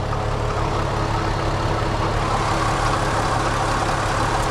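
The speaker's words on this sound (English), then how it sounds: "I can still hear something rattling on this side." A Jetta wagon's engine idles steadily with a low, continuous rumble and a faint metallic rattle running through it, close by, with no voices.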